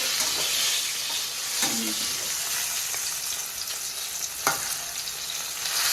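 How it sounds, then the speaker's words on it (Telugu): Bitter gourd (kakarakaya) pieces fry in a pan, giving a dense, continuous sizzle with occasional scrapes and knocks as they are stirred, close and fairly loud, with no talk. "ఇప్పుడు కాకరకాయ ఫ్రై చూద్దాము ఇంకొకసారి ఇట్లా తిప్పుకొని ఫ్రై చేసుకోవాలి"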